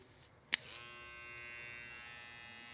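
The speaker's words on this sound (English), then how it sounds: "Here is the Zeus clipper." Zeus cordless hair clipper with a taper blade and click lever switching on with a sharp click, then a steady, fairly quiet motor buzz running alone.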